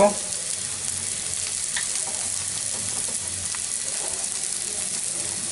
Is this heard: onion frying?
yes